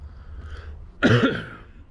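A single short cough rings out close by against quiet background noise.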